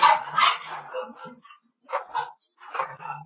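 Puppies bark and yip in a few short, high bursts with brief gaps, fairly close and moderately loud.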